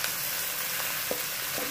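Ginger garlic paste with onions for bhindi masala sizzles continuously in a hot pan, a close, even hiss with a couple of faint clicks.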